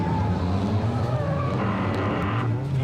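Formula Drift cars at Wall, New Jersey, led by the JIC Magic S15 on Yokohama tires, roaring near and loud with a sustained engine wail and tire squeal as they slide past.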